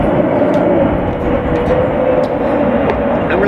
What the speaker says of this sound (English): I'm going to have to wait for this airplane to maybe fly past before I can continue talking